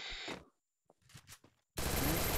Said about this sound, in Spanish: Y el gato pega unos tiros en la cabeza por Gil.